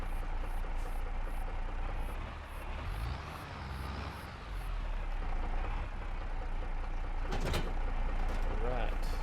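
A steady low diesel rumble from an old Case tractor engine idling in a farming video game, with a brief shift in tone partway through and a few sharp higher clatters near the end.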